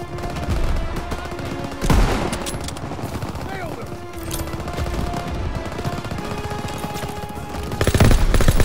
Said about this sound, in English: Firing on our tank!